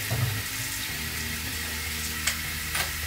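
Tap water runs steadily into a sink basin while hair is washed and dyed at home, a continuous hissing splash with a few brief louder spatters, close and alone.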